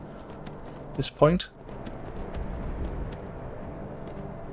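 Horse hooves clip-clopping in the Skyrim video game, a short burst of loud hoofbeats followed by soft footfalls and game ambience, with a brief spoken word.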